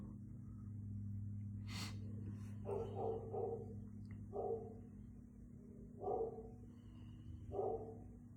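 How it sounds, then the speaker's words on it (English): A dog barks several times at a moderate distance, short bursts spaced a second or so apart over a steady low hum. "I can't get away from these barking dogs."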